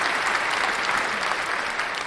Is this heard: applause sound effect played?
yes